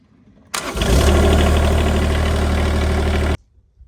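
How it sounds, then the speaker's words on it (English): A 1962 U17 dozer engine started with a jump starter catches and runs loud and rough for about three seconds, close up, then cuts off abruptly into quiet. "we're just going to show the jump starter starting this first."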